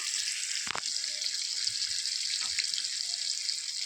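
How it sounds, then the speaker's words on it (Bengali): Onion frying in oil in a wok gives a steady bright sizzle with a couple of brief clatters, close and continuous with no voices. "প্রথমে কড়াইয়ে তেল দিয়ে পেঁয়াজটাকে"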